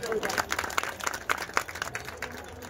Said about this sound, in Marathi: जोरदार टाळ्या, मन खोलून टाळ्या वाजव